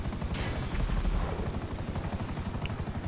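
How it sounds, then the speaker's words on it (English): Helicopter in Grand Theft Auto V, a loud, steady pulsing rotor thump and engine drone that holds for the whole stretch. "Where is this fucking helicopter? I can't fucking land straight."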